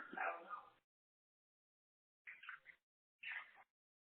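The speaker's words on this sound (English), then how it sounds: "I heard the dog barking" A dog barks outdoors in three short, muffled bursts separated by silent gaps, distant and fairly faint.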